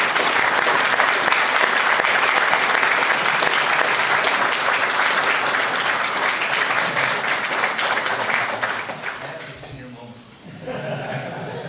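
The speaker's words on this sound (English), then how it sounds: "We'd like to acknowledge you and give you a round of applause as well." Audience applause for first responders at a Medal of Honor event, sustained clapping from a crowd for several seconds that thins and fades out near the end, with a little laughter mixed in.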